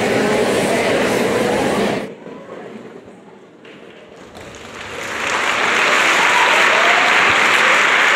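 Applause from a church congregation during a Lent sermon, a dense crowd of clapping that drops away midway and then swells back to full strength.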